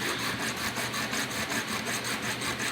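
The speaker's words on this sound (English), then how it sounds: "so what I've been doing is literally just filing." A file is pushed back and forth over small brass shims to thin them, a quick regular rasping rhythm heard close up with no talk.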